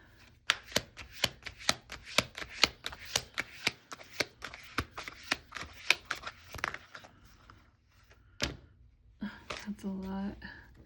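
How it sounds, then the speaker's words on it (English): Oracle cards are shuffled in a quick run of crisp, evenly spaced slaps and riffles, close and fairly quiet, followed by a short pause and a brief voice at the end. "I'll shuffle one more time here."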